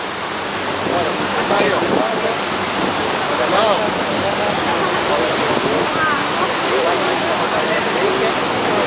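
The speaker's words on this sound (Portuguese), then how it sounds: "filmando as quedas d'água." The waterfalls of Iguazu Falls on the Argentine side roar as a loud, steady broadband rush that fills the whole clip without a break.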